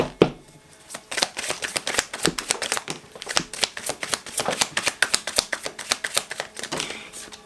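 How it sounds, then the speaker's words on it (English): Tarot cards shuffled by hand in quick riffling bursts, a close, steady run of papery flicks and slaps with brief pauses between handfuls. "There's just too many cards falling out."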